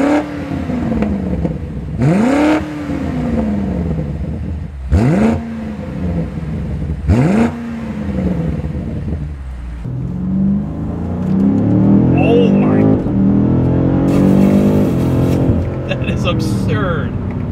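A BMW M5 CS engine gives three or four sharp throttle blips that rise and fall quickly. Then it settles into a longer, building rev with a smooth, throaty note, and voices can be heard at times.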